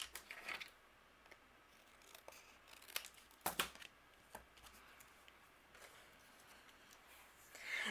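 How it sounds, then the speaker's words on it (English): Scissors snip through excess cardstock in a few quick, faint cuts close by, with soft paper rustles and handling noise in a quiet room. "And then I'm going to trim off the excess here."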